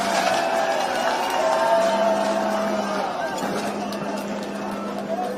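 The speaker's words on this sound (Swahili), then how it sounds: "Makofi mazuri ya Mheshimiwa Rais baada ya kuvuja ardhi" Crowd at a ground-breaking at Kangeta Market clapping and murmuring for the President after he operates an excavator, a continuous mid-level wash of applause with a low engine hum and voices over it.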